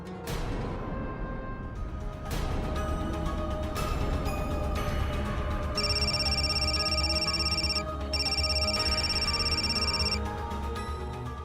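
A telephone rings in repeated electronic bursts, two clear ringing stretches in the middle and end, over a loud background of dramatic music and room noise in an Indian crime drama scene.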